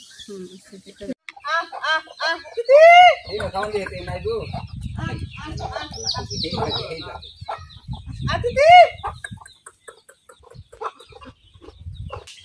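Free-range country chickens cluck and squawk close by, with a couple of louder drawn-out calls standing out amid scattered clucking and background rustling.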